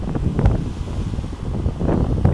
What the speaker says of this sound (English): Look at the waves just crashing in on the rocks.